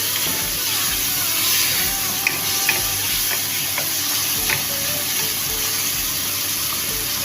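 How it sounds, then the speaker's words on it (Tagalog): Tomatoes sauté in a hot pan, giving a continuous close sizzle and frying crackle with scattered light stirring clicks throughout and no voices. "nagsisisling-sisling pa ang ating niluluto"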